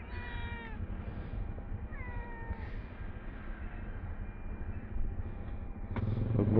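A cat meows beside a parked motorcycle in a parking space, giving a few drawn-out cries in quick succession over steady outdoor background noise, followed by a clattering bump near the end.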